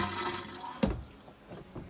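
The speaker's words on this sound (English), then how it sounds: "So let's flush it down the toilet and see if we get anything else." A newly replaced RV toilet flushes with a brief gush of water and a sharp splash, then fades to quiet draining and trickling, close by.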